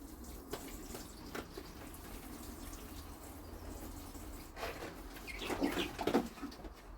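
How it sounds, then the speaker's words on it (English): Tepid water is poured from a can over sweet pea seedlings inside a greenhouse, a soft steady splashing hiss that swells toward the end, with faint birdsong in the background and no talking. "I'll just give them a quick watering. This is tepid water"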